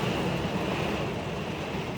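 Heavy rain pours onto a car hard enough to shake it, a steady dense hiss with low rumbling that stays loud and even throughout, with no voices.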